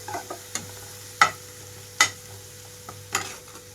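Egg fried rice being stir-fried on high flame, with a spatula scraping and tossing at irregular intervals over a low steady hum and faint sizzle, close and fairly loud, with no talking.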